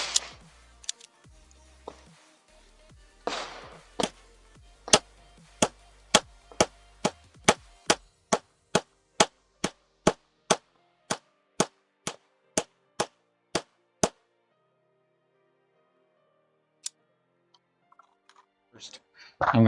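A SIG GT5 2011 pistol fires a full magazine outdoors, the shots coming as a steady rapid string of sharp loud reports at an even rhythm, with earlier scattered shots and brief talk, then a pause and a few final sounds.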